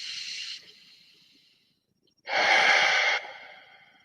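Two deep breaths taken with eyes closed during a nadi shodhana alternate-nostril breathing exercise: a short airy inhale fading into a soft exhale, a pause, then a louder, fuller inhale trailing off into a long, quiet breath out.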